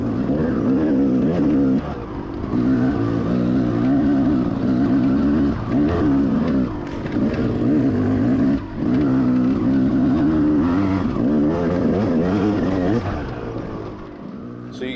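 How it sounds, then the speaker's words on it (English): A dirt bike engine drones steadily at moderate revs on a rocky trail, its pitch rising and falling as it rides along, close and continuous throughout. "So you guys may hear my bike not really like revving it out super hard"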